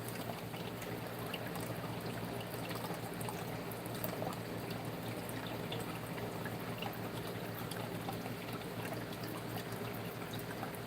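Water pours steadily into a backyard pond, a continuous broadband rush and trickle holding at an even level throughout without pause.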